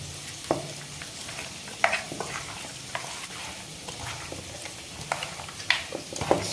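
Biryani masala and onions fry in a pan for chicken biryani, with a steady sizzle broken by repeated sharp spatula clanks and scrapes at an irregular pace, close up and without talk.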